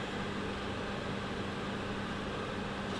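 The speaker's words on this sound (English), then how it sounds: "even though I've got the extractor fan going" A kitchen extractor fan runs steadily while a vegetable curry with onions cooks, giving a quiet, even broadband whoosh with no speech.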